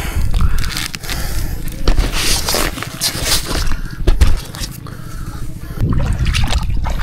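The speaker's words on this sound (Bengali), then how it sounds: "চলো জল দিয়ে যাই" People wade through cold, shallow water, likely on a bird photography outing, with steady close splashing, sloshing and trickling that surges and eases as they step along, with no talk.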